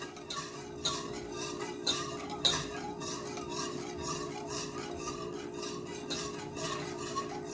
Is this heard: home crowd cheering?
no